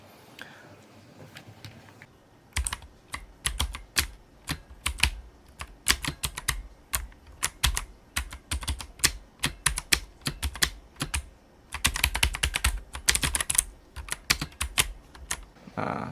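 Typing on a Fantech ATOM PRO63 keyboard, close and crisp clacking keystrokes in bursts of fast, irregular taps with short pauses, heard alone without talk.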